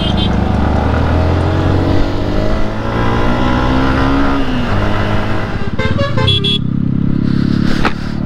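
A motorcycle engine roars steadily and loudly on an open road in Gujarat, with constant wind and engine drone throughout and brief bursts of other traffic near the end.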